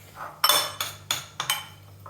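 A spoon scooping melted chocolate from a bowl gives four or five quick, close clinks and scrapes against the bowl in an uneven rhythm, with no voices.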